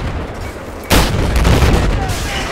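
A C4 explosion in Battlefield 4 erupts as one sudden loud blast that rolls on into a rumbling, debris-filled tail over steady background game noise.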